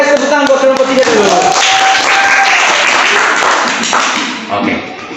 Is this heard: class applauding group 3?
yes